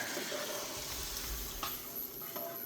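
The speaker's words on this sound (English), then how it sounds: "You're going to add this shrimp and remaining juices from the shrimp inside the sauce to give the sauce a little bit more flavor" Shrimp and their juices go into a simmering cream sauce in a pan for creamy shrimp pasta, giving a steady soft sizzle with light stirring scrapes and faint clinks.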